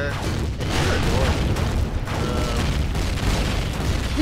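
Turrets fire in Empyrion Galactic Survival, a dense, continuous barrage of booming blasts and rumbling explosions, loud and close throughout.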